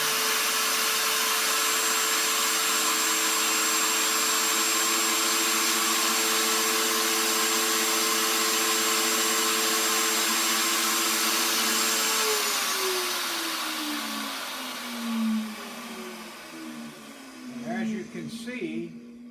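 A router spins at 24,000 RPM with a typical cutter sticking 1.5 to 2 inches out of the chuck. It makes a loud, steady high whine, then winds down after about twelve seconds.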